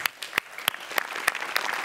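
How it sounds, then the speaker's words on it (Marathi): A Marathi comedy show audience breaks into applause, with sharp, distinct claps at first that quickly thicken into denser clapping, close and fairly loud. "आय थिंक आज त्यांच्यासाठी एकदा जोरदार टाळ्या"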